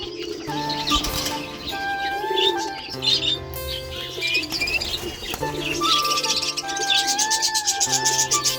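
Several caged cockatiels chirp and call in overlapping bursts, close and fairly loud, with scratchy rustling noises in between.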